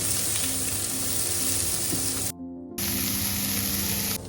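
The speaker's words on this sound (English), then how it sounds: "I'll saute." Close, steady sizzle of peppers, carrots and onions frying in a pan while a spatula moves them, briefly cutting out for a moment midway before the crackling hiss resumes.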